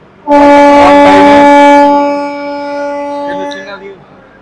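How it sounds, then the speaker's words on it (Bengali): The Puri Shatabdi Express sounds a loud, sustained harmonic horn blast of about one and a half seconds as it departs Puri, followed by a quieter, lingering horn tone and background rumble. "হরেন দিয়ে দিয়েছে"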